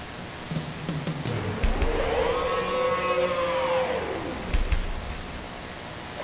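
A single siren wail swells up and fades back down, heard at some distance over a low background hum.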